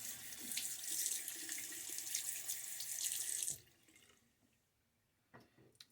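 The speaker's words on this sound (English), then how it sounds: "give myself a good rinse" A tap running into a sink for a rinse after a shave with a Gillette Tech razor, a steady close splashing rush for a few seconds before shutting off, followed by faint drips and small handling noises.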